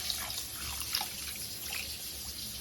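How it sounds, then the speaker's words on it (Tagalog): Water trickling and splashing into a pot of chicken, about 1.5 liters, a soft uneven pour with small drips, close by and fairly quiet. "ilagay ko ng tubig para paluto sa manok"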